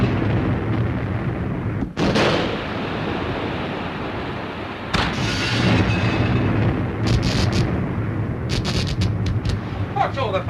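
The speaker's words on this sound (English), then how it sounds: "It's hard to tell with these depth charges." Depth charges go off around a submarine in a 1943 wartime film: heavy, continuous rumbling booms and low concussions fill the space, with sharper bursts near two and five seconds and crackling rattles after.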